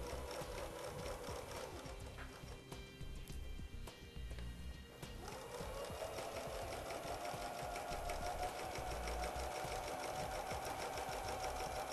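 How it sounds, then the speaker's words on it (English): A sewing machine stitches in the ditch with a flanged foot, running in a fast steady mechanical chatter that pauses briefly near the middle before resuming at a brisk even pace. "You're just going to sew right in the ditch."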